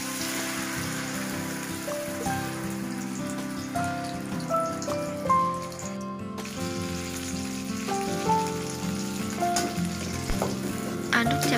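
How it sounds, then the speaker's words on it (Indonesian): Ground chili paste hits hot oil in a wok for mackerel balado, giving a dense, continuous crackling sizzle like heavy rain that stays loud and close throughout, with faint background tones but no talking. "Setelah minyaknya panas, lalu tuang cabai yang udah kita giling tadi."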